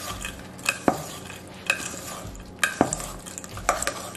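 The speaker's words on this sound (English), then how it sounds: "now I'm just going to mix up the grounds" Vegan grounds stirred in a pan, a spoon scraping and tapping the metal in sharp strokes about once a second over a soft, low sizzle, close and without talking.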